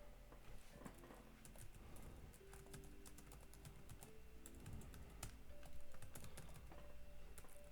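A computer keyboard is typed on quietly and close up, with irregular bursts of clicking keystrokes and brief pauses, over a low background hum.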